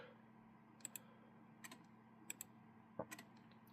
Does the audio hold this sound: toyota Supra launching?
no